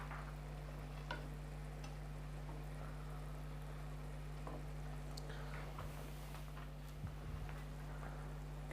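Four green chilies and raisins fry in a pan while being stirred, a soft steady sizzle with faint scraping, quiet and continuous, no voices.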